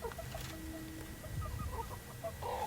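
A free-range village chicken gives soft, scattered clucks while being held on top of a cage, the sounds faint and close with no talking.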